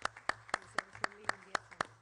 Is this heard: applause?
yes